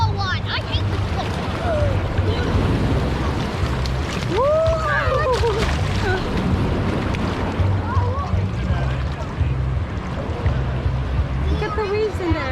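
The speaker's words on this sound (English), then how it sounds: "Look at the waves in there, Liam." Ocean waves at a Honolulu beach wash steadily, mixed with wind noise on the microphone, while people talk and a voice rises now and then.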